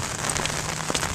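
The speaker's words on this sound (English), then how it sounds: "And now it's raining!" Steady rain falls on a surface in Florida, a dense, even patter with a few louder drops standing out, close and alone with no talking.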